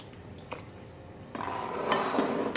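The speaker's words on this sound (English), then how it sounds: "Just give it a little stir with a fork to let some of the seed sink down in the water" A fork stirs green chillies in a bowl of water, giving quiet, close clinks against the bowl and light sloshing that grows busier toward the end.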